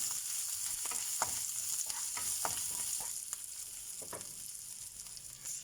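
Chopped ginger, slit green chilies and curry leaves fry in hot oil with a bright, continuous sizzle close by, punctuated by scattered spatula stirs and scrapes, with no voices.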